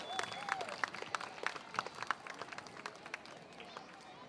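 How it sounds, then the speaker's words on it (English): Audience at a school Christmas event clapping, scattered moderately faint claps in an uneven rhythm with crowd murmur and voices underneath. "A round of applause."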